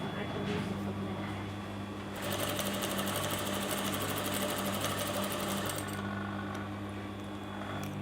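A sewing machine stitching a line of gathering stitches in fabric, a close, even mechanical whir with rapid needle ticking that starts after a quiet hum and runs for about four seconds before easing off.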